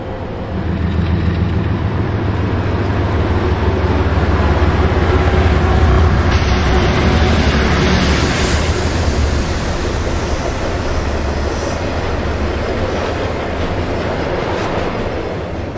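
A long CSX freight train heading east on track 2 rumbles past nearby, loud and continuous, with a steady roar and faint rhythmic clacking of wheels over rail joints.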